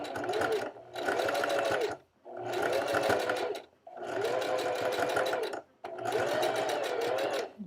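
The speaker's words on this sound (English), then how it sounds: "you got to do a very nice stitch right in the corner." A sewing machine stitching the corner of a homemade bra runs in four steady, close whirring bursts of about one to two seconds each, separated by brief stops.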